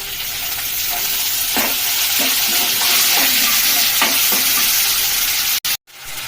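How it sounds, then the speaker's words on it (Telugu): Ginger garlic paste and chili powder sizzle loudly in a hot tempering pan, with a continuous close frying hiss and several scraping stirs, then a brief dropout near the end. "ఒక వన్ స్పూన్ అల్లం వెల్లుల్లి పేస్ట్ వేసుకున్నాను ఆ పేస్ట్లో కారం ఇట్లా పోపులో వేసుకోండి"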